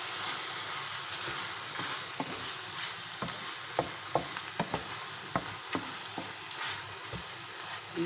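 Ketchup sauce stirred in a pan over low heat while making chicken macaroni, a soft steady sizzle with scattered light taps and scrapes of a spoon against the pan.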